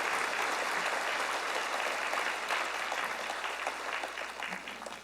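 A church congregation applauds at a spring dawn revival service, a dense, steady crowd clapping that holds evenly and then tapers off toward the end.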